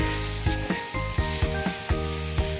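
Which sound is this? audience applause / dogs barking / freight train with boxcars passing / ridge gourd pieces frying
ridge gourd pieces frying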